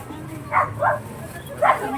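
A dog gives three short yapping barks at a middle distance over a low background hum outdoors.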